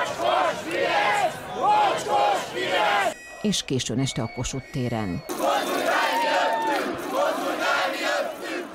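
A night protest crowd in Budapest's Kossuth Square chants slogans over and over in a rhythmic surge, loud and close. In the middle, a brief stretch of other sound breaks in, and a narrator speaks over the crowd.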